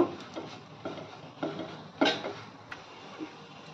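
Spoon stirring ground black pepper and chilli flakes into an egg mixture in a bowl, a series of soft scraping clinks at a steady rhythm, close and fairly quiet, with no voices.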